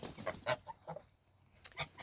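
Several geese, a gander and older goose with two young ones, give short scattered honks and clucking calls, fairly close and moderately quiet, spaced irregularly with brief pauses between them.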